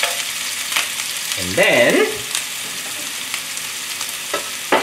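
Ginger and garlic stir-fried in a wok for a Chinese vegetable and thick rice noodle dish, a steady close sizzle with scraping stirs and a brief spoken interjection over it.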